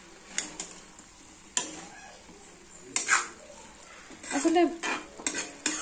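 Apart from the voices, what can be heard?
stirring food in a pan with a spoon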